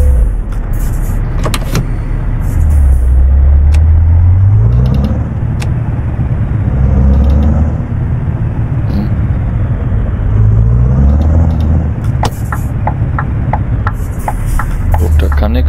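Truck engine in the Euro Truck Simulator 2 video game rumbling and pulling away, low revs rising in several surges as gears change, loud and steady under someone talking.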